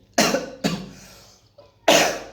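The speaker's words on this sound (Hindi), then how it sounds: "बहुत ही ज़्यादा खांसी भी हो गई है" Three sharp, loud coughs up close, the first two quickly back to back and the third after a short quiet pause.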